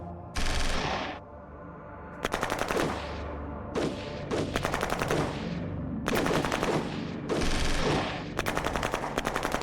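Shadow Empire strategy-game gunfire rattles in loud, sharp bursts of rapid machine-gun shots, several volleys separated by brief pauses over a low rumbling background, with no talking.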